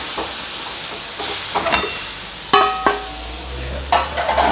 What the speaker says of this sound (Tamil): இப்போது இந்த வேக வச்சு கொத்தரங்காயை இதில் போட்டு நல்லா கலந்து விட்டுருணும்